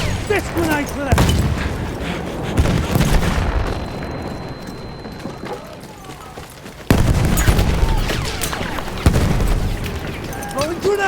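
Grenade blasts and gunfire in the Battlefield 1 Cape Helles domination match: heavy booming explosions and rattling bursts of shots, loud and close, with soldiers' voices shouting throughout.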